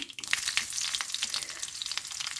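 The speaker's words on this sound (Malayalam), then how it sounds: "അര ടീസ്പൂൺ കടുക് ഇട്ട് കൊടുക്കാം കടുക് പൊട്ടി വരുമ്പോൾ" Hot oil crackles and spits with rapid, dense popping of mustard seeds, loud and close, continuous throughout.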